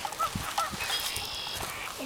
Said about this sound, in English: No, that's a bird. Or a goose.